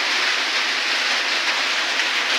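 Rain falling steadily outdoors, an even, close, moderately loud hiss with no pauses or voices throughout.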